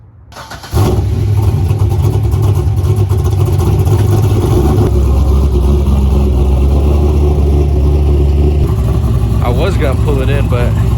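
A widebody Corvette with a big cam starts up and sits at a loud, steady, lumpy idle, close by, with a short throttle blip near the end.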